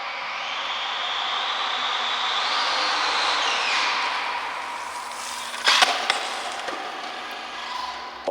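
ARRMA Felony 6S brushless RC muscle car running inside a large warehouse, its high motor whine rising and falling steadily, with a brief burst of sharp clattering partway through.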